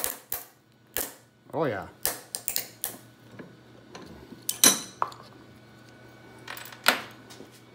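Brittle plastic curling iron housing cracked and snapped apart in a vise, a string of sharp cracks, clicks and crunches with short gaps between them, close by, with a brief word of speech partway through.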